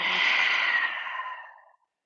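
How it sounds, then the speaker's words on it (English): One long, deep exhale during a seated meditation with eyes closed, breathy and close, holding steady before it fades into silence, with no talking. "Exhale completely."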